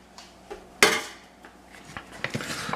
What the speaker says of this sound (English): To the rice, I'm going to add 1 can of rinsed and drained black beans.